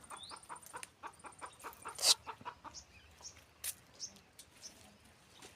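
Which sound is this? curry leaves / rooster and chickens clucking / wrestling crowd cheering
rooster and chickens clucking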